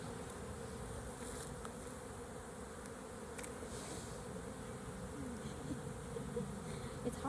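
Honey bees swarm around an open hive during an inspection, a dense continuous buzzing hum close by, steady and soft throughout without talk.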